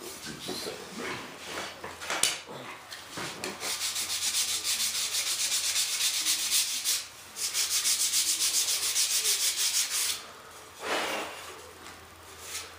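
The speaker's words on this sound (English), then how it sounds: "on this sanding these edges right here" A sander works along wood edges with a rough, rasping drone that runs in long continuous passes, pausing briefly between strokes, close and fairly loud.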